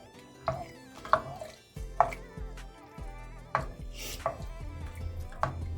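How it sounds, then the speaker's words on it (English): A knife chops fresh spinach into smaller pieces with a handful of sharp, irregular strikes, close and clear, each one a crisp thud with a brief rustle of leaves between. "you saw me cutting up my spinach into smaller pieces"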